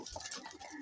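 A pet bird coos softly, a faint, brief low call heard alone.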